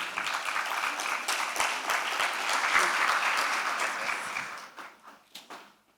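Sustained applause from an audience, dense clapping that holds steady for several seconds, then thins out into a few scattered claps near the end.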